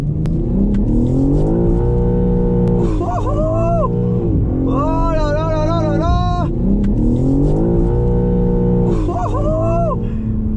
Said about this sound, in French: On va voir ce que ça donne une M3 Touring en drift.